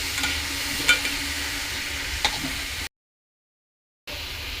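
A spoon stirs ridge gourd with soaked moong dal in a hot pan. The close sizzle is steady and is marked by a couple of sharp scraping clanks, then it cuts out to silence for about a second before resuming.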